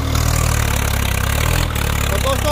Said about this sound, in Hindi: ट्रैक्टर थोड़ा ड्रॉपिंग करने लगा है और फिर भी काफ़ी अच्छा चला हुआ है